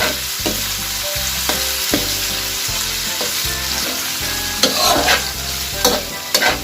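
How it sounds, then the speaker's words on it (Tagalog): Pork liver stirred in a hot pan, with a steady sizzle under repeated scraping strokes of a utensil at a regular rhythm, close and fairly loud. "Haluin hanggang maluto ang pork liver."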